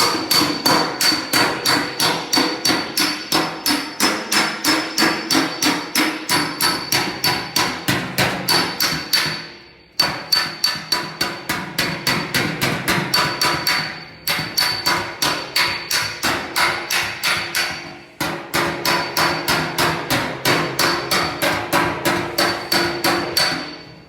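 A body hammer beating out a dent in a car body panel, used against a hand dolly: fast, even metallic blows struck close and loud in long runs, broken by short pauses.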